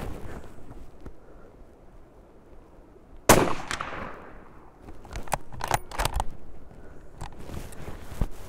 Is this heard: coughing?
no